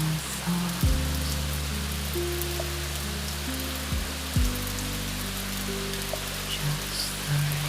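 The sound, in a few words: rain falling on surfaces at night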